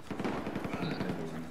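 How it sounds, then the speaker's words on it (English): Rapid gunfire from an LMG and other weapons in a video game crackles in a fast, dense burst, with a voice faintly under the shots. "Well, watch, I hear gunshots."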